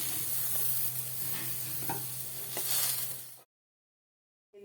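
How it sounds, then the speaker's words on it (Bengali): Small mola (mourala) pond fish, rubbed with salt and turmeric, sizzle and crackle as they fry in hot oil in a pan. The steady, close hiss lasts about three seconds, then cuts off abruptly. "দিচ্ছি মরলা মাছ কত ভেজে নেবো"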